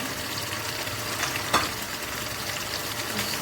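Chicken-liver-style bhuna of liver fries with garam masala and cumin in a pan, a steady dense sizzle filling the clip with a brief louder scrape of stirring midway, close and continuous with no voices.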